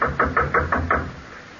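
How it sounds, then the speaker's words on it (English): Six firm knocks on a wooden door from a radio mystery drama, struck in an even, quick rhythm, close and alone, fading into a short tail of room tone. "Knock on the door"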